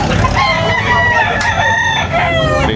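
Several roosters crow loudly and close together, overlapping calls rising and falling over a busy background of clucking fowl and murmuring people at an outdoor Sunday chicken market in Tabunok, Talisay.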